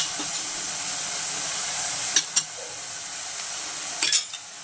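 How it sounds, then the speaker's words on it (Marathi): Vermicelli roasting in oil for upma, a steady bright sizzle with a few sharp clinks of a spoon against the pan as it is stirred, close and alone. "शेवया घालायच्या आपण यात भाजून घ्यायची व्यवस्थित"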